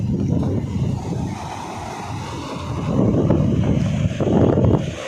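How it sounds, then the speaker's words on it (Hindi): Sea waves and gusting wind along the Visakhapatnam coast during a cyclone, a loud continuous roar of surf and buffeting wind that swells toward the end. "विशाखापाटना समुद्र कूल"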